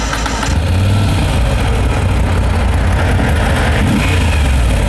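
A Moto Guzzi V7 Stone motorcycle's V-twin engine runs loud and close, a steady throbbing roar held as the throttle is opened, with no talk over it.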